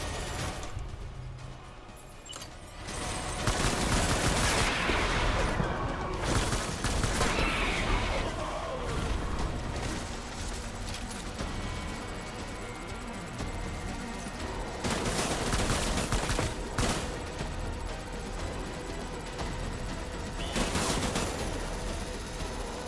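A sustained fusillade of rapid gunfire fills a Death Stranding firefight, loud and continuous with bursts that swell and recede over about twenty seconds. A brief quieter lull opens it, and there is no talking.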